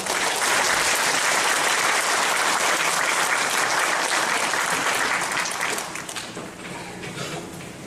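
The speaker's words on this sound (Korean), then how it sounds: "우리 교수님 힘찬 박수로 부탁드리겠습니다." An audience claps for a professor being introduced to give a staff-training lecture on art teaching methods for smart devices and social media. The applause is dense and steady, then thins and fades toward the end.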